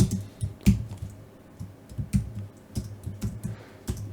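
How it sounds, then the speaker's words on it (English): Keys on a computer keyboard clatter in irregular bursts of sharp, close clicks with short pauses between them. No voices are heard. "I'm going to type here source"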